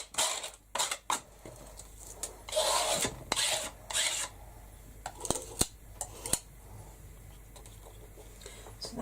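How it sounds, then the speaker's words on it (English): Scraping of paint off a mixed media canvas back into a pot: irregular short rasping strokes with small clicks and taps, close and fairly quiet, with no talking. "I can scrape this and put this up straight back in the pot"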